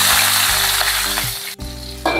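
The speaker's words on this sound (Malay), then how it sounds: "bila dah minyak dah panas, kami masukkan bawang" Onions drop into hot oil in a home kitchen and fry with a loud, continuous close sizzle, broken briefly by a sharp knock near the end, with no talk.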